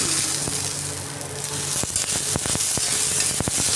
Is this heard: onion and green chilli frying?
yes